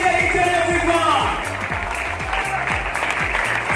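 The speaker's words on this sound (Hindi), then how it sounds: "एक बार जोरदार तालियां होना चाहिए everyone" An audience at an event hall claps in a steady round of applause, mixed with music and crowd noise, loudest at the start and then holding at a slightly lower level.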